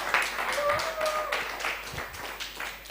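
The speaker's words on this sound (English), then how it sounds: "Please, a round of applause for the organizers again." Audience applause for the organizers at a young filmmakers' workshop, scattered claps building into a steady patter of many hands, with a short whistle-like tone and a voice heard faintly underneath.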